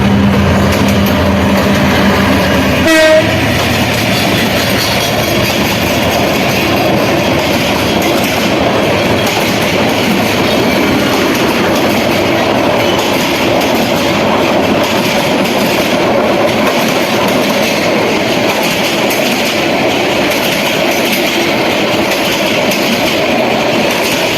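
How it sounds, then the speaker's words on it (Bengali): A passenger train, the Mohanganj Express, rumbles steadily past at close range, wheels clattering on the rails throughout, with a short, sharp horn-like blast near the start. "যে এখন যে ট্রেনটি আসছে এটা হচ্ছে মোহনগঞ্জ এক্সপ্রেস"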